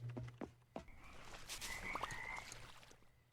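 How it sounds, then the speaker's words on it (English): Frogs croak in the cute frog-management video game Mudborne, a run of bubbly, chirping croaks and ribbits repeating irregularly at moderate loudness over a soft ambient bed, with no talking. "Frogs in here? What are you guys doing in here?"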